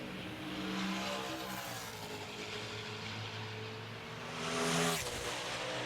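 NASCAR stock car on a 2009 qualifying lap at Phoenix, a sustained, fairly distant engine drone with strong tonal whine that climbs in pitch and swells briefly near the end, with no talk.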